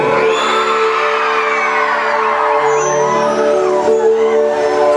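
A Bihu concert audience in Sivasagar lets out loud, sustained whistles and whoops together, a dense crowd roar that holds steady and close for the whole stretch.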